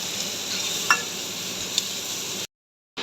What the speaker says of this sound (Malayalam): അരിഞ്ഞു വെച്ചേക്കണ 2 സവാള നമ്മളിതിലേക്ക് ചേർക്കുവാണ്